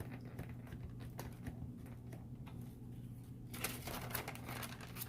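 Parchment paper is handled and crinkled up close, with faint scattered ticks and rustles at first, then a louder burst of dense crinkling toward the end over a low steady hum.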